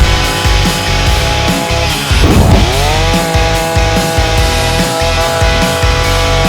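Excel 52cc petrol hedge trimmer attachment on a 5-in-1 garden multi tool running steadily, a loud close two-stroke engine drone with a brief rev surge midway, no talk.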